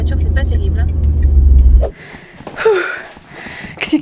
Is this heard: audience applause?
no